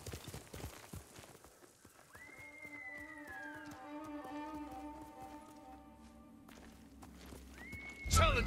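A horse in the samurai video game Ghost of Tsushima whinnies in a long, rising and falling call over quiet hoofbeats, and a second short whinny starts just as a loud impact cuts in at the end.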